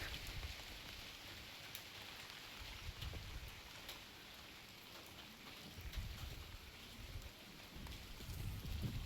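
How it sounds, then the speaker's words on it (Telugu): Heavy rain pours outdoors among surrounding buildings, a dense, steady wash of patter with low rumbling gusts, faint and unbroken throughout with no voices. "వర్షం మామూలు పడతలేదు ఇక్కడ."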